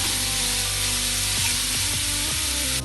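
Carrots sauté in ghee in a hot pan for carrot rice, giving off a steady, close sizzle that stays continuous and fairly loud throughout, with a few soft stirring knocks and no talking.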